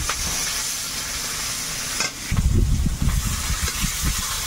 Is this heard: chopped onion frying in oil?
yes